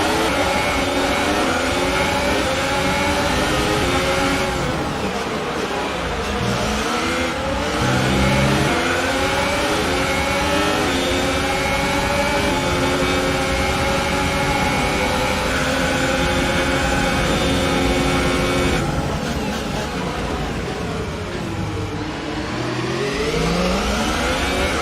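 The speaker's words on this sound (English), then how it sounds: "feed in the throttle. Let's build the revs." A Haas Formula 1 car engine in the F1 2018 video game revs hard and continuously at the Austrian Grand Prix, pitch climbing and dipping through gear changes, loud and close throughout with no talking.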